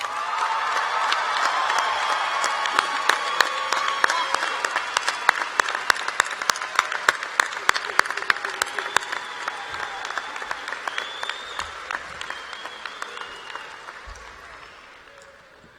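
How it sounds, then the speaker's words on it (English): The crowd at the 2018 Grapevine High School graduation ceremony applauds the graduating class, with sustained dense clapping and some cheers that slowly fade toward the end. "let's give this class one more round of applause tonight."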